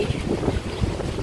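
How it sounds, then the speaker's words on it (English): Wind buffets the microphone in a low, steady rumble with gusty bursts, and no voices are heard. "it's such a windy day."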